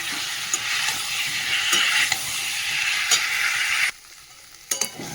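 Potatoes for aloo dum stirred in a pan of frying spice paste: a loud, steady sizzle with scraping strokes for about four seconds, then a quieter simmer broken by a couple of sharp stirring clatters.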